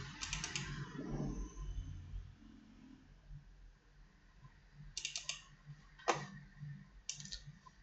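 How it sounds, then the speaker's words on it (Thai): A computer mouse gives quiet, close clicks in short paired bursts, spaced apart over faint room background. "แล้วก็ดับเบิลคลิก"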